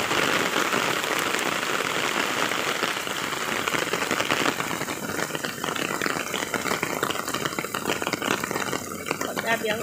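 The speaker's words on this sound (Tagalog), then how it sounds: "Grabe ang ulan." Heavy rain drumming on an umbrella outdoors, a dense continuous close patter that stays loud throughout and shifts slightly in texture midway.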